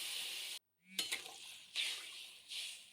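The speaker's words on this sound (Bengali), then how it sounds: "জল দিয়ে খুব ভালো করে নাড়াচাড়া করে দিয়ে ফুটতে দেব" Water poured into a frying pan of potato and garam masala spice mix hisses loudly, then a spoon scrapes and stirs with a few clinks against the pan; no one speaks.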